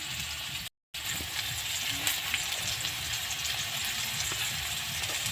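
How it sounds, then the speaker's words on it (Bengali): Potato pieces fry in hot oil with turmeric, giving a soft, continuous sizzle with faint crackles and occasional light stirring, steady throughout and quite quiet. "এবার আলুগুলো লাল লাল করে ভেজে দেবো।"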